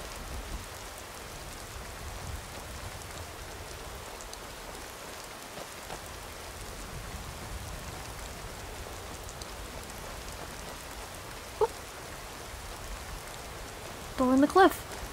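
Heavy wind-driven rain in Skyrim hisses in a steady, even wash, with a few brief louder knocks and a short burst of higher tones near the end.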